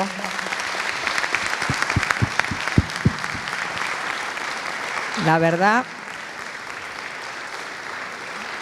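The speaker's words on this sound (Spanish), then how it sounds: "le damos un fuerte aplauso" Seminar audience at an information security session applauding a speaker named Paula, steady clapping through the first half with a few sharp claps standing out, then a rising voice and quieter room noise with talk.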